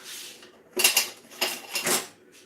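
A bowl comes out of a kitchen cupboard as dishes clatter and clink in three bright, close bursts, with nothing else heard between them.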